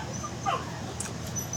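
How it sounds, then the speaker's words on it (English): Dogs make short yips and whimpery barks at a moderate distance, a couple of brief bursts over a low indoor background hum. "you hear my dogs barking"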